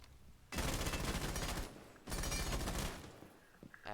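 Two long bursts of automatic fire in a competitive tactical shooter match, a magazine dumped in rapid, loud, close rattling volleys separated by a brief pause.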